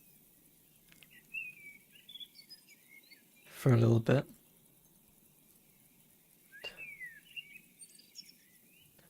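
Birds chirp and whistle faintly in the distance in scattered short calls over a quiet background, with a brief burst of talking in the middle.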